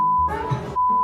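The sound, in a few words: censoring beep over spoken country names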